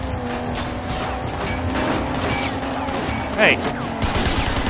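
Rapid gunfire bursts during a car chase in the video game Sleeping Dogs, sharp repeated shots over engine and crash noise, with a player shouting briefly.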